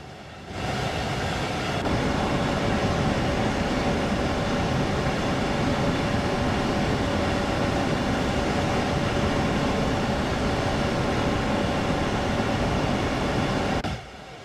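A train runs along a rough stretch of railway with a continuous loud rumble and rattle. A steady tonal whine sits over the noise for about fourteen seconds, then it fades.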